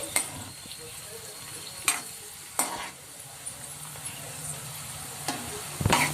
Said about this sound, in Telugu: మినప్పప్పు, ఆవాలు, జీలకర్ర కూడా వేసేసుకుందాం. వీటిని బాగా అయితే ఫ్రై చేసుకోవాలి.